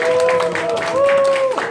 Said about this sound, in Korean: 우리 뜨거운 박수로 환영해 주세요